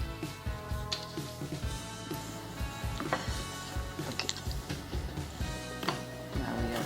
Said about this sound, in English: Cutting the tomatoes in fourths.